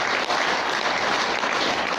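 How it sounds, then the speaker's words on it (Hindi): Hearty applause at a training session in Goa, dense continuous clapping from a crowd at steady loudness. "एक बार फिर बहुत जोरदार तालियां"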